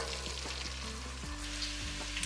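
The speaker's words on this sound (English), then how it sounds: "You're sauteing half a cup of chopped onions until translucent but not brown." Chopped onions sauté in melted butter, a steady soft sizzle running throughout, close but fairly quiet, with a low steady hum beneath and no talk.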